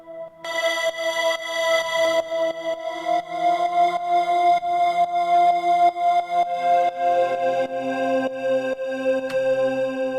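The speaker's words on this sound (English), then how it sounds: "This is just a triangle wave layered with a choir, and then we've got a little bit of AM going on right here." A sustained synth pad built in Bitwig from a triangle wave layered with a choir, with slight amplitude modulation and detuned voices and no filter. It swells in softly and holds a bright, steady chord that shifts partway through, with no talking.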